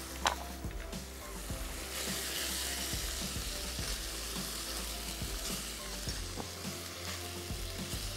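Onion, tomato and green chilli sizzle steadily in a hot pan, a dense continuous frying hiss with occasional scraping stir clicks and knocks throughout, close and fairly loud, with no talking.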